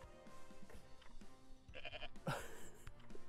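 Goat bleats from the Goat Simulator video game, a few short cartoonish cries cutting through a busy game soundtrack with music and effects, fairly loud and close.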